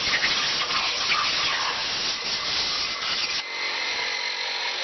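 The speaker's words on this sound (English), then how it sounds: "I'm going to hose this off real quick once again before I get back to work." A garden hose sprays water over ported engine cylinder heads and intake runners, a steady loud broadband gush that runs continuously, with the sound shifting and thinning slightly near the end.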